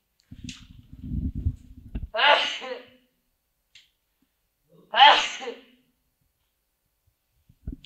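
Two loud, sharp sneezes close to the microphone, about three seconds apart, after some low rustling. The room is quiet in between.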